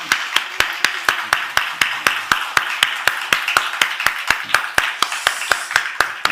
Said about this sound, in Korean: 우리 시간 박수로 한번 격려하도록 하겠습니다